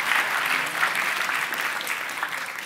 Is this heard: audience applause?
yes